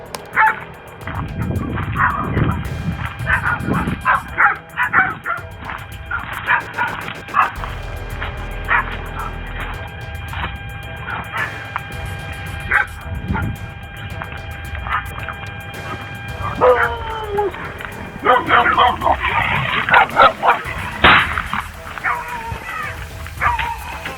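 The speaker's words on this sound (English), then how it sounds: "A dog started barking" A pit bull barks and yips repeatedly in uneven bursts with some whimpering, loud and fairly close, mixed with people talking and background noise throughout.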